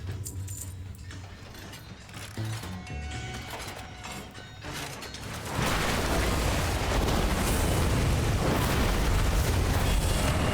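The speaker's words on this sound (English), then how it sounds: "They're using firecrackers inside of a mine." Firecrackers go off inside a mine in the video game World of Warcraft, with clinking mechanical clatter at first, then a sudden loud blast that settles into a sustained roaring, crackling rumble.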